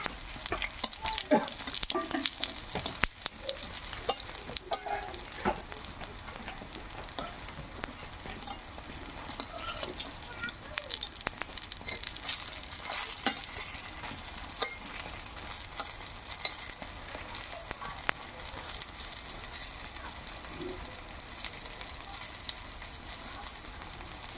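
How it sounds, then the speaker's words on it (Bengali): Green pea fritters crackle and sizzle steadily in hot oil, a dense close frying hiss with scattered pops and occasional clicks of the utensil, sustained without talk. "বড়াগুলো আমার ভাজা হয়ে গেছে লাল লাল করে।"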